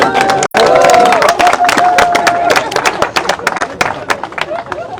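A crowd claps and cheers loudly for Tom, a young godfather, at a boat christening, with dense broadband clapping, shouts and a whistle-like tone early on, plus a brief dropout near the start before the applause continues and thins.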